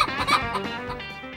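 Laying hens on a small Thai egg farm cluck close by in a dense, overlapping chorus that carries steadily through the whole clip. No one speaks.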